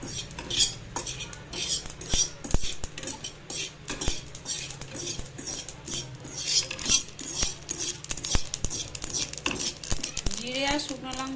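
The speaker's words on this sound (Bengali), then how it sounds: "ততক্ষণ জিরে আর শুকনো লঙ্কাটা একটু শুকনো খোলায় ভেজে নিচ্ছি" Cumin seeds and dried chillies dry-roasting in a pan, stirred with a metal utensil that clinks and scrapes repeatedly up close, with a voice talking over it at times.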